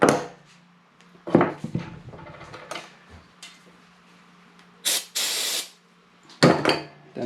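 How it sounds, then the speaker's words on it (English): Brake cleaner sprayed to clear excess silicone from a repaired Lucas FW2 wiper motor: two sharp hissing bursts, one long and one short, between light clinks and handling noises from tools and parts. "Then I just use a bit of brake clean to wipe off any excess silicone mess I got on there"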